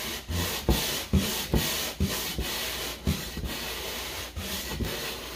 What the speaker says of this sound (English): It's just a real rough grit sandpaper taped with double-sided tape.